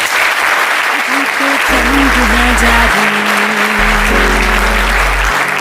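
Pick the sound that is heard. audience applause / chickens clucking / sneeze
audience applause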